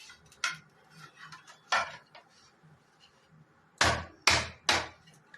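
A malai cake baked in a pot is turned out onto a plate, with a few scattered soft clinks and then three loud, close metallic knocks and thuds of pot against plate near the end.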